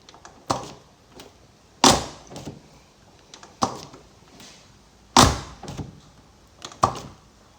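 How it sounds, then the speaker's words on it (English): Repeated door latch clunks and thumps, several in a row spaced a second or two apart, with short mechanical whirs between them as a 2013 Mini John Cooper Works Coupe's frameless windows drop on door opening. "Upon opening the doors, the windows do dig down a little bit to clear the door frame."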